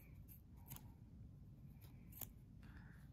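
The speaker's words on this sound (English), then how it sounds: "I'm just cutting a few strands of yarn at a time" Dull scissors snipping through a few strands of yarn loops on a pom-pom for a tiny crocheted Santa hat, a handful of faint, brief cuts over a low steady background hum.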